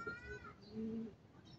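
A soft pigeon coo, a low murmuring call heard close by against a quiet background with faint bird sounds.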